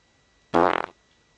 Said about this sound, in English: Now I actually don't have to mute the mic to have a fart